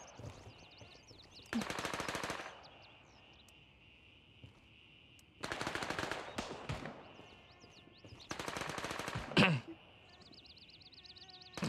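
Bursts of automatic gunfire in the military shooter game Gray Zone Warfare, three rapid rattling volleys of a few seconds each with quieter game ambience between them.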